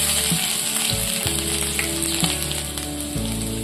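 Hot oil sizzles and crackles steadily as spices, ginger and curry leaves fry, with occasional stirring clatters and scrapes in the pan, close and fairly loud.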